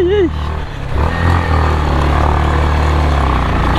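A motorcycle engine drones steadily on a rough mountain road near Marangkot, Palpa, a loud close low rumble lasting throughout, with someone speaking briefly at the start.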